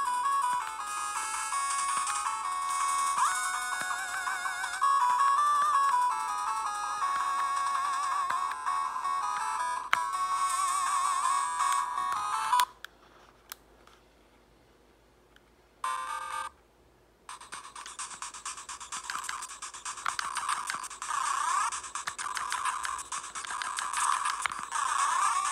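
Chiptune music from a Batman NES game plays from an original BittBoy handheld, bright and beepy with busy melodic lines, cutting off briefly midway with a short blip before the tune resumes at moderate volume.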